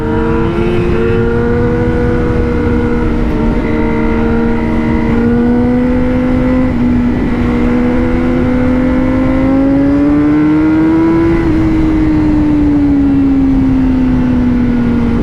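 A Honda CBR1000RR-R Fireblade SP motorcycle engine pulling loud and steady under acceleration, its harmonic whine rising and falling gently as the throttle is held, close and continuous.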